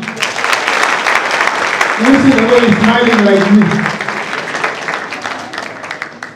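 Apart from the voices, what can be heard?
audience applause at graduation ceremony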